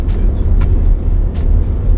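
Steady road traffic rumbles along US 1, a Florida highway, with low engine drone throughout and a few brief hissing swells of passing vehicles, no voices.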